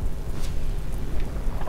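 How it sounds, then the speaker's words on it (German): Rain and rumbling thunder from the video game Looterkings, a steady hiss of rainfall over a low, continuous rolling rumble, heard alone without speech. "Hör auf mit deinem Regen da."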